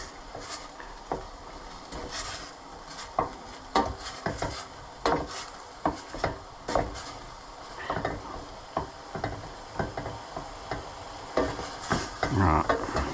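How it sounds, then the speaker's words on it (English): A wooden spoon stirring curry in a saucepan, with repeated scraping and knocking strokes against the pan in an irregular rhythm, close and fairly clear with little else around. "So just keep on stirring that, make sure it doesn't stick to the bottom"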